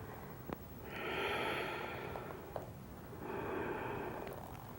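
Slow, controlled inhales and exhales during a guided stretching and breathing exercise: two long, soft breaths, fairly close and quiet, with no talking over them.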